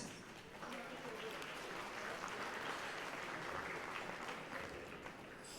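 An audience at an awards event applauds award winners with steady, even clapping that holds for several seconds, heard faintly at a distance.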